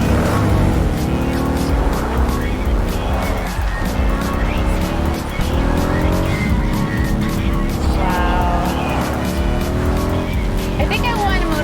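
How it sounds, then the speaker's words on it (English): A revving motorcycle engine in the video game Cyberpunk 2077 roars continuously with shifting pitch as it accelerates and changes gear, loud and close, with a voice talking over it. "I could definitely blindfolded tell that that's the Method 143-ish sounding motorcycle."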